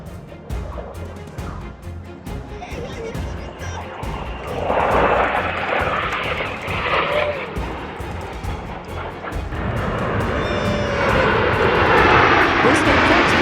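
Italian Air Force airshow planes over Sardinia roar past in loud, rolling swells that build and ease and then surge again near the end, with people talking beneath the engine noise.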